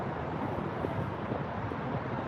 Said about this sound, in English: It just started to get really windy out here.